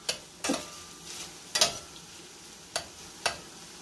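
Oyster mushrooms, sweet peppers and onions sauté in a pan, with a soft background sizzle broken by several sharp scraping stirs of a utensil against the pan at irregular intervals.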